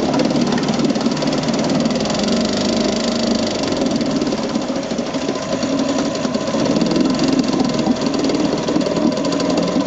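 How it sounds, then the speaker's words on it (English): A Zundapp Type 304 5hp single-cylinder engine, built 1970-80, runs steadily with a rapid, even knocking beat. It is loud and close throughout, with no talk over it. "You can hear the traditional motorbike sound that it has. It's you know, that da-da-da-da-da-da. It is being a single cylinder and all."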